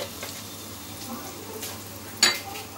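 A pinch of asafoetida (hing) sizzles in hot oil while cooking Bengali dhokar dalna, a soft steady frying hiss with light stirring and a sharp utensil clink near the end.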